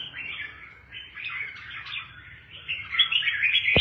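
Pet songbirds kept at home in Vietnam chirp and twitter continuously at close range, a busy overlapping stream of high calls that swells louder toward the end, with no talking.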